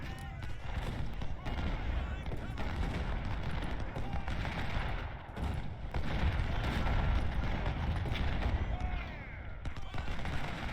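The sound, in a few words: brigades firing muskets in video game Ultimate General Civil War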